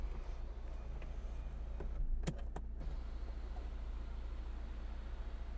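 The electric motor of a 2026 Renault Duster panoramic sunroof hums briefly inside the cabin, a short mechanical whir over a steady low car hum, with a couple of faint clicks.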